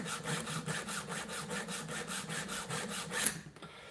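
A Vevor chainsaw chain is sharpened by hand with a file, giving a steady run of rhythmic rasping strokes, close and fairly loud, which stop abruptly near the end.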